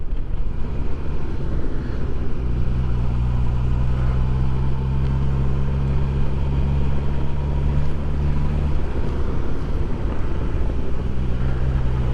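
A 2024 Suzuki GSX-S1000 GX motorcycle on the move, its engine giving a steady low drone that stays loud and close throughout, with wind rush over it and a mild rise in pitch partway through.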